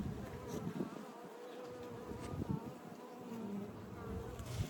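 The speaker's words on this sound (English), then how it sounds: "This one is really thick with bees." Honey bees crowd the frames of a 24-frame Layens horizontal hive, filling the air with a steady, close, dense buzzing hum that swells slightly at moments, with no voices over it.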